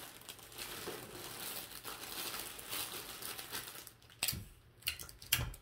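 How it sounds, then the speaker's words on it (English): Crinkling and rustling of paper as clear tape is pressed onto a handmade paper gift basket, soft and close, with a few sharper crackles near the end. "Pinch the side, bring it back, and tape it."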